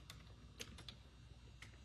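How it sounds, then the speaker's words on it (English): Quiet, close keystrokes on a computer keyboard arrive in short irregular clusters of clicks over a faint steady hum. "Typing and talking is very hard."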